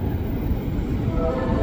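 A KRL commuter electric train arriving at Gondangdia station in Jakarta, a low steady rumble of wheels and motors close by, with faint rail clatter throughout.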